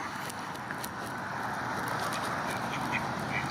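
Ducks quack repeatedly over steady outdoor background noise in a park, the calls fairly close and blending into one another, with geese nearby.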